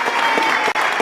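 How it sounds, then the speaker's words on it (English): An audience at a radio awards event breaks into brief, loud applause, dense clapping heard up close without any speech over it. "So round of applause for Alan and Cheryl Gerard"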